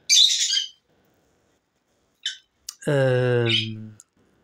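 Short bright chirps and a squawky warble from a budgerigar, close and clear, separated by silent gaps.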